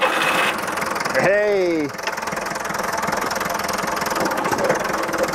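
An old tractor engine runs at a loud, steady idle close by with a rough knocking rhythm. Someone shouts briefly partway through.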